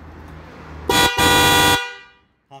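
A Bosch car horn is tested before being fitted to a car, giving two loud, close blasts: a short honk followed after a brief break by a longer sustained one, with the tone dying away afterward.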